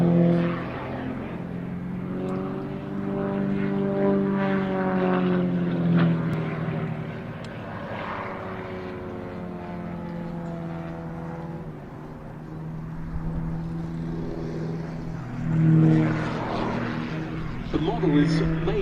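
A full-size Extra 300S aerobatic plane spins down overhead, its propeller engine drone rising and falling at a distance beneath continuous talk from a man nearby.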